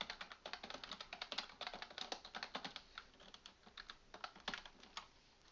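Rapid, continuous keystrokes on a computer keyboard, quiet and close, in uneven bursts with no talking.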